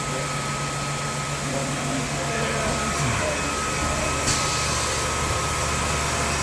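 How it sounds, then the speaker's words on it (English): A Bavelloni VDM 1636 vertical drill and milling machine cuts a notch along a short edge, giving a loud, steady broadband whir with a faint humming tone that runs unbroken throughout. "Now it's moving to do the last notch just like this on the other short edge."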